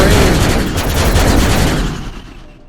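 Rapid weapon fire in the Servo Police Force Exo Runner video game, a loud dense burst of shots rattling continuously before fading out at the end.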